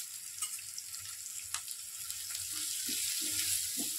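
Onion with turmeric, chili powder and salt sautéing in a pan, a steady soft sizzle with faint scraping stirs and a few light clinks, no voices.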